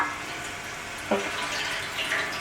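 Water runs steadily from a faucet into a dye-stained sink while skeins of superwash merino yarn are washed. A continuous close rush with a small splash partway through.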